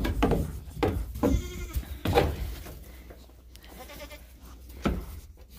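Goats on a family farm bleat several times in short, loud bursts during daily chores, with barn clatter and some background noise between the calls.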